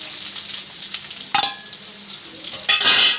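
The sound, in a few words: onions frying in oil in a pan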